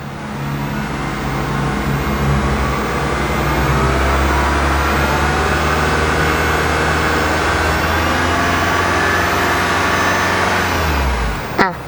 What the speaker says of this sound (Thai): ลองวอร์มเครื่องเบาๆดูนะคะ